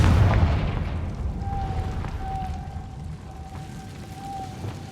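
A Confringo fire spell from Hogwarts Legacy goes off in a loud, deep explosive blast at the start, then rumbles and decays into a sustained hum with a thin whistling tone over it.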